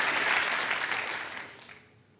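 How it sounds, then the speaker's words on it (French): Studio audience applause on a French television game show, a burst of clapping that starts full and loud, then thins out and fades to near quiet by the end. "Je l'applaudis. Bravo."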